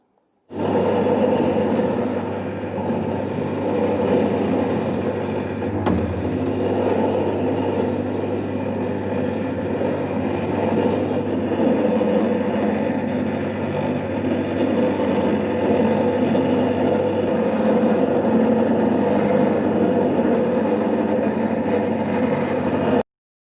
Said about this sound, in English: Now we have to apply a pull of 5 cm per minute in the ductility